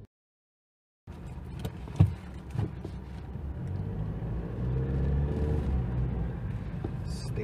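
2024 Mitsubishi Triton GLS 4x2 automatic pickup driving on-road, heard from inside the cab as a steady low road and engine rumble after a brief silence, with a few bumps and knocks.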